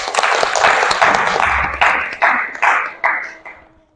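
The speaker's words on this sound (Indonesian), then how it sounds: "Beri tepuk tangan untuk kelompok 2." A small group applauds together, the clapping thinning out into a few separate, louder claps before fading away.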